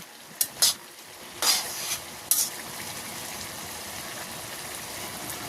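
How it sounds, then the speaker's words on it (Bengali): Bottle gourd frying in a pan as its released water cooks off, a steady low sizzle with a few sharp bright bursts early on, likely stirring, then an even hiss. "আস্তে আস্তে ভাজি করে এই জলটা টানাই ফেলতে হবে"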